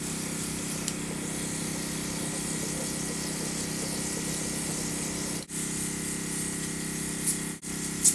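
Steady, continuous hiss of an airbrush spraying makeup onto a face, close and even throughout, with two brief cutoffs near the end.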